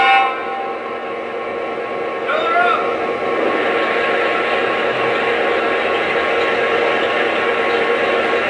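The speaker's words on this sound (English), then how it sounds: "We can add fuel to this locomotive by pressing and holding the reset key down." A Lionel Legacy GP-30 model diesel locomotive plays its refueling sound effect, a steady, close mechanical hum with a brief rising squeal partway through. A voice can be heard alongside it.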